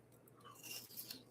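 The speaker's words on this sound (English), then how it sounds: "I'm sure you're hearing me crunch my apple." A bite into an apple gives a short, crisp crunch close to the mic, quiet overall and heard alone.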